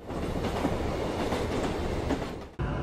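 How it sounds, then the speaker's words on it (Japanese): A shinkansen train pulls out of Okutsugaru-Imabetsu station, giving a continuous loud rumble of wheels and motors with no voices, until a sudden dip near the end. "ホームドアを閉めながら列車はすでに出発しております。"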